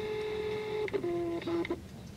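A Canon T4i camera lens autofocusing: a steady high whine, then several short whirring motor bursts close by and faint, with no talk.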